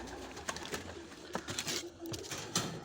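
Pigeons coo at a racing-pigeon loft, soft low repeated calls close by over a light background of rustling and wing movement.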